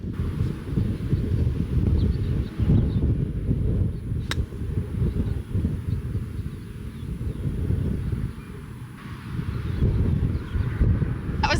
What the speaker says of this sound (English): I didn't think it was gonna make it because that wind was insane